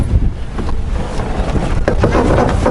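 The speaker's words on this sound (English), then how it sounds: "And tacking our boat." Strong wind buffets the microphone aboard a racing sailboat tacking at the start of a yacht race, with rushing water and loud gusty roaring filling the whole stretch; no speech.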